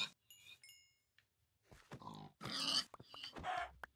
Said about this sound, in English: I've got tons of pigs.